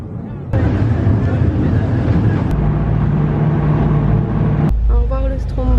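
A heavy boat engine rumbles loudly and continuously up close at a pier on Stromboli, with a voice speaking briefly over it near the end.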